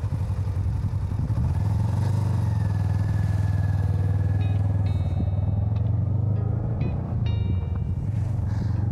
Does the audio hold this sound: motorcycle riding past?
yes